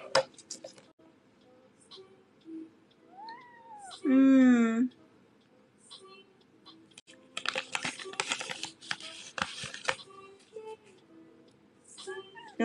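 A cat gives a short rising meow, then a loud, drawn-out wail while its nails are being trimmed, with crinkling, rustling and a person talking around it.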